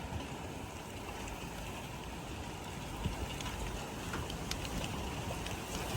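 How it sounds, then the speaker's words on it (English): Large hail falling during a tornado storm in North Texas, a dense, steady roar of hard impacts with scattered sharper cracks, loud and continuous with no voices. "Getting some large hail."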